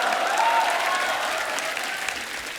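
A studio audience gives loud, sustained applause for a 90s singer on a Hindi talk show, dense clapping filling the room from start to finish.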